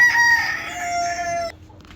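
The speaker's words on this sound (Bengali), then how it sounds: "দেখতে পাচ্ছেন আমার সিল্কি মুরগিগুলো" A young silkie chicken on a rooftop lets out one loud, drawn-out call of about a second and a half. It breaks off abruptly into near silence.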